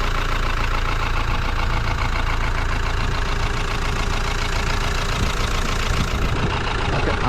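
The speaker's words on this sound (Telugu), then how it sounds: "ఒకసారి ఇంజన్ సౌండ్ ఏనండి" A Mahindra Bolero 2.0 pickup engine idles steadily close by, a continuous low, even rumble with a faint knocking texture that holds unchanged throughout, with no talking over it.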